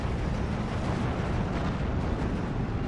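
Heavy bombs burst in the Steel Division 2 wargame, a dense rumbling roar of explosions sustained at full loudness with no pauses.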